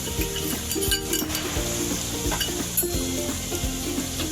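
Onions with turmeric and spice powder frying in a pan, a steady close sizzle with scraping and clinks from stirring, no voices.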